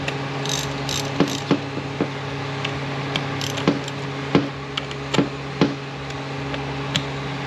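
Ratchet wrench tightening bolts on a Ford 6R80 automatic transmission during a rebuild, sharp clicking ratchet strokes and knocks in irregular bursts over a steady background hum, close by with no talk.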